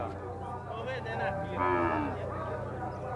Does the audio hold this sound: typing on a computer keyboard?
no